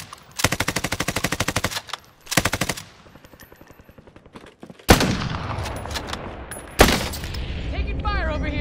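Rapid video game gunfire rattles out in long automatic bursts, then goes quiet before two loud, booming shots, each trailing into a noisy echo.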